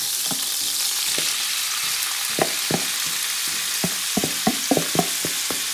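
Steady high hiss of beef stir-frying in a pan, broken by scattered clicks and scrapes of stirring, close up with no talking.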